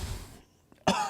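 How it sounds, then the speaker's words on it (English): A single sharp, close cough bursts out after a brief lull, loud and rough, preceded by low background noise. "Let me cough my lung up real quick."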